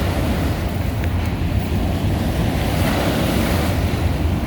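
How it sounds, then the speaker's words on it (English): Ocean waves surge continuously in a loud, rushing wash, with heavy wind buffeting the microphone the whole time. "Why waves? What in the world?"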